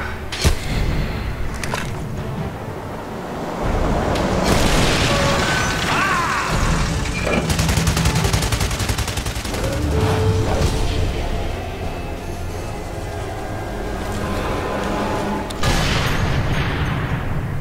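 Gunfire and mechanical clanks in the WWII sniper game Sniper Elite 3, set in Siwa Oasis in Africa: several sharp shots and bursts stand out over a steady bed of game noise and effects, with no clear talk.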